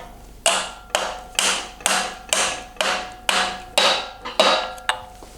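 A hammer drives a part onto the crankshaft of an LS3 engine in a workshop: nine evenly spaced, ringing metallic blows about half a second apart, each decaying quickly, close and loud with no voices.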